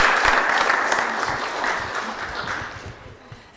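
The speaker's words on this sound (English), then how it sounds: "please, big round of applause for Sophie" Steady applause from an audience for a speaker at a talk fills the room and fades slowly toward the end.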